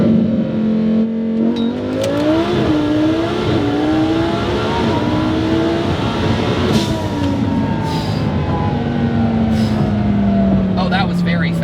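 A 2600 hp Lamborghini supercar accelerating hard, its engine note climbing steadily through gears with brief shifts, loud and close from inside the car under heavy road and wind roar.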